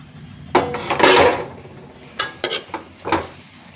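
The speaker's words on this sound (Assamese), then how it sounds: "অকমান লৰাই দিব" A spoon stirs jackfruit seed curry in a pan, scraping in several short bursts with clinks of utensil on metal, close and fairly loud with pauses between strokes, no voices.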